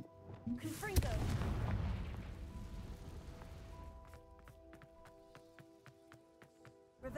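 A Confringo spell explosion booms in Hogwarts Legacy, a loud blast that rolls out and decays over a few seconds, followed by quieter footsteps and ambient clicks.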